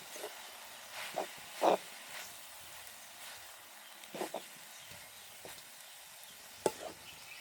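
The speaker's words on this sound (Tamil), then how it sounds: "எங்களுக்கு வாழைப்பட்டியும் சண்டியிலையும் கொஞ்சம் வறுபட்டு வந்துட்டு இதுக்குள்ளே நாங்கள் எடுத்து வச்சுக்கிற தேங்காயும் சேர்த்துக்கொள்ள போகிறோம்" Banana stem and sandi leaves dry-roasting in a pan before coconut goes in, heard as faint, sparse scrapes and stirring bursts over a quiet, low sizzle.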